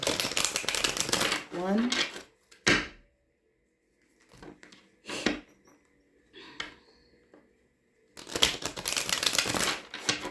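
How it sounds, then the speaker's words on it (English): Crisp, rapid riffling of tarot cards being butterfly shuffled in bursts at the start and end, separated by quiet pauses with a few soft taps and a single spoken word. "I'm hearing two more butterfly shuffles."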